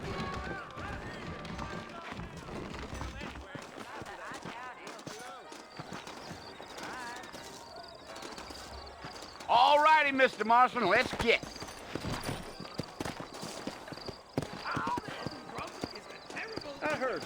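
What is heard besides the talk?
horses trotting in the video game Red Dead Redemption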